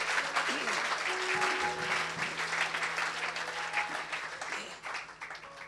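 A church congregation applauds for the Lord with sustained, dense clapping that fills the room, and voices call out and sing over it.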